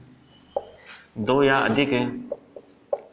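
Short scratchy strokes of writing on a board during a class 10 science lesson, a few brief marks spread out around a teacher speaking.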